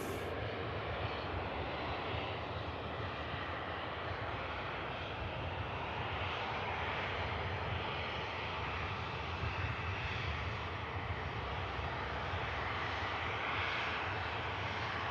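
Ryanair airliner rolling off the runway via a rapid exit at Manchester Airport, a steady distant jet roar with a broad even rumble that holds throughout, no talking.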